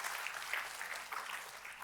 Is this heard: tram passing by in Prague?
no